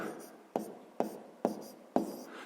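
Pen writing a sixth-grade math solution on paper, soft scratchy strokes with about four sharp taps as each mark starts, close and quiet with no talk.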